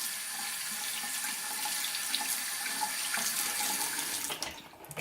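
Steady stream of tap water running into a sink while a makeup brush is rinsed of soap, continuous and moderately close, with a few splashes and a brief change in the flow near the end.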